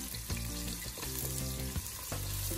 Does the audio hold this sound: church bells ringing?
no